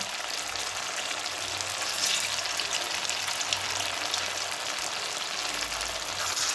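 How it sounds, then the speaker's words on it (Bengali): Fish chops frying in hot oil give a steady, dense sizzle with a continuous crackling hiss that holds at an even level for the whole stretch, close by and with no talk over it. "এগুলো হালকা আছে ভালো করে ভাজতে দিতে হবে।"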